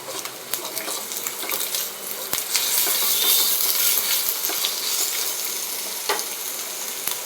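Ginger garlic paste sizzles in a pan with fried onions, green chillies and curry leaves. A steady, fairly loud crackle runs throughout, dotted with occasional sharp clinks and scrapes from stirring.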